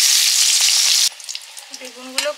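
Small-cut eggplant pieces fry in hot oil with a loud, steady sizzle for about a second, then the sound drops to a quieter crackle with a few clinks and stirring noises.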